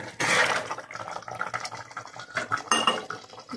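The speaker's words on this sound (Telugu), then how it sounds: "అందుకని చెప్పేసి నేనైతే కొంచెమే పోస్తున్నాను నీళ్ళు అయితే." Water is poured in small amounts into a pressure cooker holding a vegetable curry, heard up close as splashing and liquid sounds mixed with the clatter of metal utensils against the pot.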